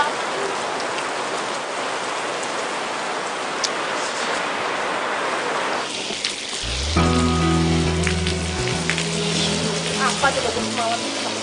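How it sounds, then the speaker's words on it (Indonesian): Steady rain hisses loudly on a surface for about six seconds, then a low musical score swells in underneath the continuing rainfall. "Kenapa pakai hujan segala sih?"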